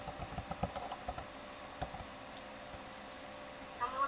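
Keys on a computer keyboard tapped in a few quick bursts while a seed is entered in Minecraft, with steady game background sound continuing underneath and a louder clatter near the end.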